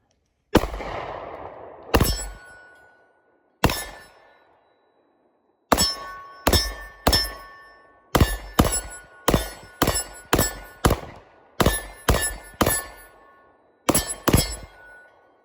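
A Kimber DS Warrior 10mm pistol firing S&B ammunition outdoors. About fifteen loud, sharp reports come first as single shots with pauses, then in quicker strings, each followed by a short ringing decay.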